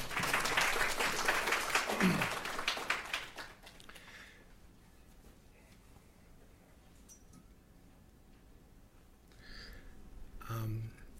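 Audience applause in a lecture hall greets a guest speaker, loud and dense at first, then quickly fading to scattered claps and room quiet, with a few brief sounds near the end.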